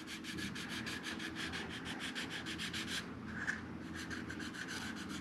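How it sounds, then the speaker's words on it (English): Sandpaper rubs steadily along the edge of a very thin wooden planking strip for a ship model, a close, continuous rhythmic scratching with short regular strokes and a brief pause midway. "I'm sanding the edge of a piece of paper right now."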